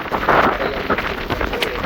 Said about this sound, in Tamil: சரியான மழை பெய்து